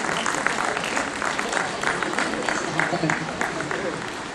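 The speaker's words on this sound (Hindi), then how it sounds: "आपकी तालियां बजती रहें।" Dense crowd applause at a Bundeli theatre performance in DeenDayal Sabhagar hall, Jhansi, fills the room steadily and loudly, with a murmur of voices underneath.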